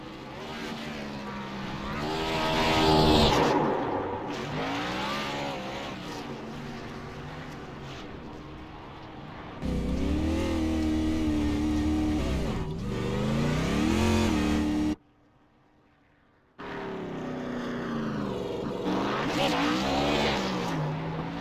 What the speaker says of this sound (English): He's going to pull out here, and we're going to see some nice burnouts.